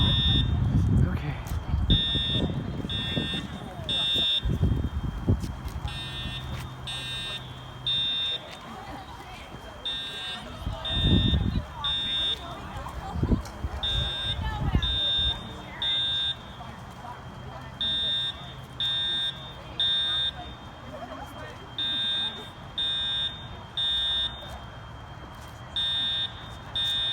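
An Edwards Integrity fire alarm sounds on code 3 during a university fire drill, with loud repeating electronic tone bursts in a steady on-off pattern. People talk and move about early on, then the alarm pulses alone.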